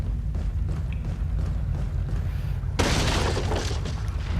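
Wooden barrels smashed in Resident Evil 4, a sudden loud splintering crash that breaks over a low steady background rumble partway through.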